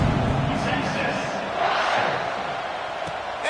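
Steady roar of a stadium crowd in a college football video game, UTSA versus UT, during a kickoff, a dense continuous wash of cheering with commentary speech running over it throughout.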